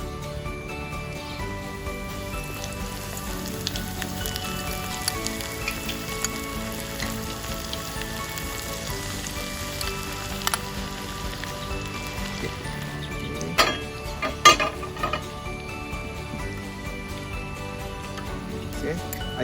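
Tempeh sizzles steadily in a frying pan as a continuous bright crackle, with a few louder pops and spatters near the end and a voice talking over it.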